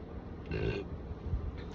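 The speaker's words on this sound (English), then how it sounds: "y'all don't know what got me keep burping like this" A single low, throaty burp sounds close to the microphone, brief and fairly quiet, followed by a faint second rumble.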